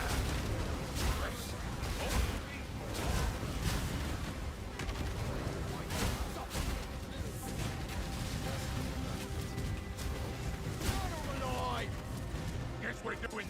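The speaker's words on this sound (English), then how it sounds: "That means no unexpected explosions like that." Explosions and crashing blasts in the video game Path of Exile during a Trickster heist, a dense rapid series of bursts and pops mixed with game effects, heard under ongoing talk.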